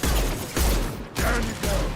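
In Mass Effect, a concussive shot ability fires in a few muffled, booming bursts that swell and fade across two seconds, with heavy low-end rumble and a noisy background of combat.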